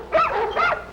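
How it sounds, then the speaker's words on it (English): Neighbors' dogs barking through the night, two rising, yelping barks about half a second apart, loud and close, with a third starting as the clip ends. "Just like that, they kept barking."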